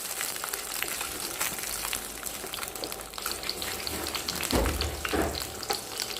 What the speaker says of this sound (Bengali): যেহেতু আমাদের এখানে ওভেন নেই সেহেতু আমরা এখানে ফ্রাই করে নিই, হালকা ফ্রাই করে নিই